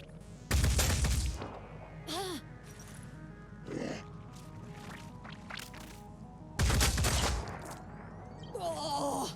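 Gunfire in the Phoenix Point tactical video game: two loud broadband bursts of shots, one near the start and one later, separated by quieter game effects, with someone talking in between.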